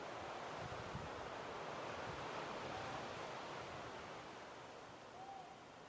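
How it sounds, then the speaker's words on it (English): A slender-billed cuckoo dove of the subspecies albicapilla calls in Sulawesi woodland. Its soft, hooting coos are faint and distant, mostly buried under steady wind and surf-like rushing noise. "Here I'm filming a slender-billed cuckoo dove for you"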